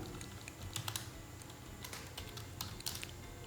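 Code is typed on a computer keyboard for a Unity pause menu: quick irregular bursts of key clicks, close and clear, with short pauses between groups and no talk.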